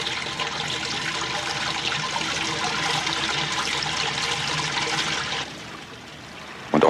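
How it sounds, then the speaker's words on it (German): Dirty water and rainwater rushing through an underground sewer tunnel, a steady, loud roar of flowing water that drops off toward the end before a sudden noise. "Und aus dem vielen Dreckwasser wird ein richtiger breiter Bach. Alles unter der Erde."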